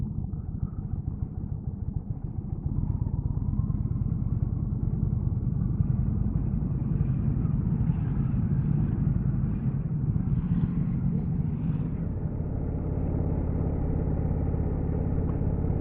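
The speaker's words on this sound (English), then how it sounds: "this is the Indian Chieftain. And we're out for a short ride" A 2019 Indian Chieftain motorcycle is ridden on the road, its engine a deep, steady rumble that holds at a fairly constant loud level throughout, heard close from the rider's position with no talk.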